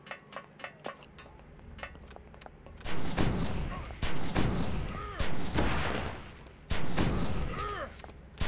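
Gunfire in the video game Oni, soft ticking shots at first, then louder bursts of weapon fire and impacts amid fighting, with a voice speaking between them.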